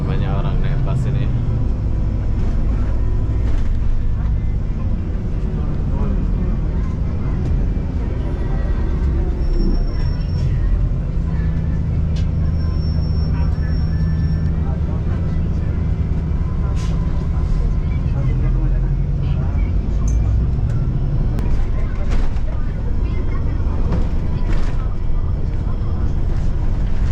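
A crowded free night bus in Kuala Lumpur, with a steady low engine rumble and road noise throughout and passengers chatting and moving nearby.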